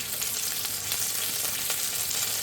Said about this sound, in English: So I'm just going to add a little bit more oil to this pan, and I'm just going to let them cook for another 2 to 3 minutes.